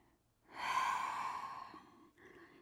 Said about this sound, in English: One more breath here.